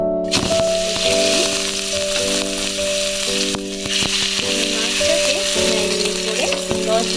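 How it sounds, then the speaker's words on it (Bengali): Rohu fish fries in mustard oil with a loud, dense, crackling sizzle that holds steady throughout, with a few sharp spits and pops near the pan and a low steady hum beneath. "আমি তাই সর্ষের তেলে মাছটা ভেজে নেব"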